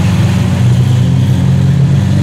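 Car with a built engine and built transmission idling and revving, a loud, close, steady engine drone with a low throbbing tone and no voices.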